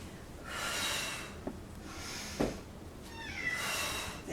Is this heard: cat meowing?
yes